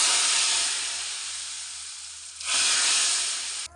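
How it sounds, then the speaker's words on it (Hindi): Loud sizzling of spices and asafoetida hitting hot oil for kadhi tempering, a bright continuous hiss that eases off and then flares up again in a fresh burst. "कड़ी में तड़का दे दिया, आवाज़ सुन रहे होगे"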